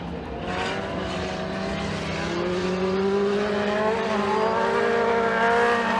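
Kids' mini stock race cars roar around McKean County Raceway, their engines blending into a continuous droning whine that swells louder as the pack approaches.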